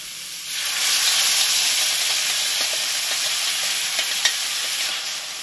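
Splash of water hitting spicy egg masala on a hot tawa, a loud close hissing sizzle and steam that swells quickly and holds steady, with a few small crackles and a faint tap near the end.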